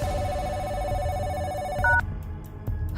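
A telephone rings in a steady electronic trill, loud and close and alone, then ends with a short higher beep, followed by a brief quiet thump.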